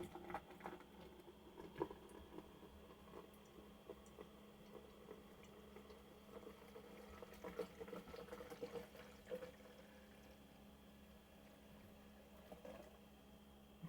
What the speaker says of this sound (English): I could at least just dump this in this DOS boot and see what happens